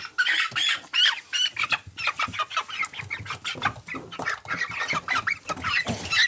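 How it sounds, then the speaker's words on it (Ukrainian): Chickens, including a rooster, cluck and squawk nearby in short, agitated bursts, with flapping and scuffling between the calls. "Тихенько, це півник у нас."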